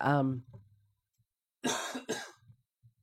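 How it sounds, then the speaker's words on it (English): A speaker in a conversation coughs twice in quick close succession after a moment of silence, with faint speech heard just before. "Thanks for stopping talking so my cough would be extra accentuated."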